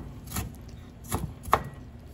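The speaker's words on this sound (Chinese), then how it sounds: "然后再一大块姜，先切片切丝，然后再把它切末。" A knife chops a large piece of home-grown ginger into fine bits, three distinct knocks spread over about two seconds, close by and moderately loud over a low steady background hiss.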